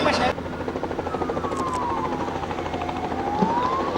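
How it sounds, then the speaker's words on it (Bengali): A Bell 206 helicopter at an airport drones steadily with a whirring, slowly gliding whine as it moves toward a taxiway, fairly loud and continuous. "bell two zero six হেলিকপ্টারটি lima ট্যাক্সিওয়ের দিকে অবচরণ করতে যাচ্ছে"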